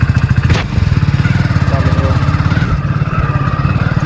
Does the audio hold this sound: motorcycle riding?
yes